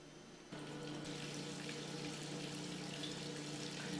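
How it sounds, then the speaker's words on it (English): Running water from a parts washer rinsing contaminated oil out of Hypro diaphragm pump parts, a steady close splashing flow that starts abruptly and continues evenly throughout. "we can bring it into the parts washer and clean out any of that contaminated oil"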